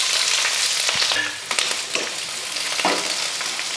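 Mustard seeds, curry leaves, green chillies and chopped onion fry in hot oil with a steady, loud sizzle, broken by a few soft stirring scrapes and pops.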